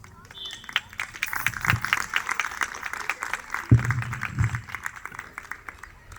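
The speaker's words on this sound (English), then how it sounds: "Please encourage and cheer all the participants with an enthusiastic applause." Applause from an audience at a preschool sports day builds into a steady spread of many hands clapping for several seconds, moderately loud and slightly distant, with a thump partway through.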